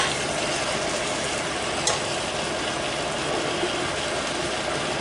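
Turkey sauté with tomato coulis being stirred in a pan, a steady low sizzle and soft scraping that runs evenly throughout, close and moderately loud, with a brief sharper clink near the middle.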